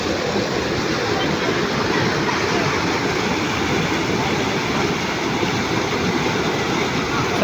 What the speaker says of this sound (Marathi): एकदम खतरनाक पाणी आलेला, भरपूर पाणी आलेला.